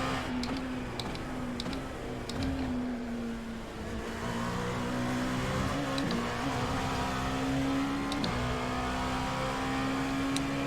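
Dallara P217 LMP2 race car in the iRacing sim, its engine holding a steady high drone with rising and falling revs and brief gear-change dips, continuous and close, with faint ticking over the top.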